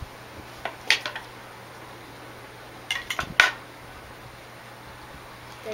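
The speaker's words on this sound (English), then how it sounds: "So go ahead and dish out a serving if your mom isn't helping you" Salad being dished out with serving utensils against a bowl at home: a few quick, light clinks in two short clusters, separated by quiet stretches with a steady faint background hum.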